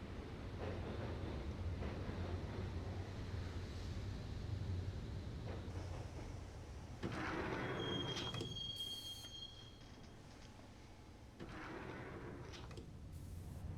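Max Payne subway train ride: a continuous rumble of wheels on track with metallic screeching squeals rising and fading, and brief clunks of doors in the middle, all fairly quiet.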